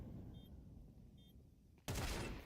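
Desert Eagle pistol shot in a Counter-Strike pro match, a sudden loud, sharp blast near the end after a quiet stretch of low game ambience.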